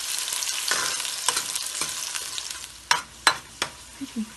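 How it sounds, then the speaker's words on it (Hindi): Onions fry in hot oil in a pan for a pulao, giving a dense, steady sizzle near the mic, followed by several sharp scraping stirs and clatters toward the end. "प्याज डालेंगे, इसको गोल्डन होने तक पकाएंगे।"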